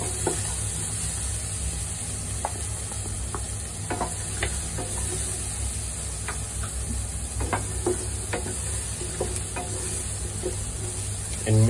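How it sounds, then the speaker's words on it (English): Garlic fries in butter in a pan, a soft steady sizzle under faint stirring clicks and taps of a utensil, fairly quiet and with no talking. "After the butter, I put the garlic."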